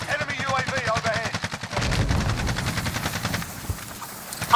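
Gunfire in Call of Duty: Modern Warfare, rapid automatic bursts in a fast regular rhythm, loud and close, with a heavier burst midway and a player voice talking over part of it.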